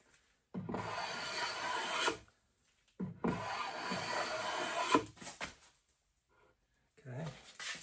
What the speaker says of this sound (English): I'll pull the blade in a little bit to take shallower shavings.